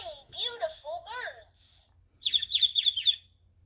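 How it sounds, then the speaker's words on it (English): Chirping bird calls from a children's sound book button: two bursts of bright, rapid tweets separated by a brief pause, loud and close. "birds flying home to their nest."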